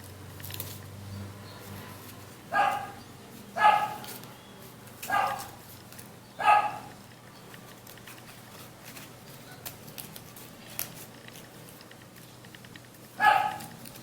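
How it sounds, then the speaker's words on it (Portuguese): A dog named Muni barks in short sharp bursts: two pairs and a single bark spaced a second or so apart, then one more after a pause, set against quiet room tone. "quem tá latindo aí é o Muni"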